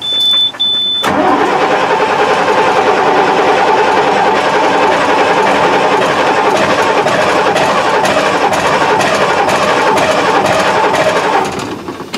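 Engine on a piece of farm equipment is cranked by its starter, a loud, rapid, steady churning that runs for about ten seconds without catching, then stops.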